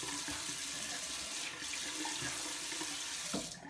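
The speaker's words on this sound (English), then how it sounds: "Splash a bit of water on the face" Water runs steadily from a bathroom tap into a sink during a wet shave, splashing continuously at close range with a few brief knocks near the end.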